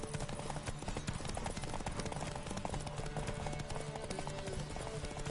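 Steady rhythmic hoofbeats of a horse galloping in The Witcher 3, loud and continuous throughout with a faint game soundtrack underneath.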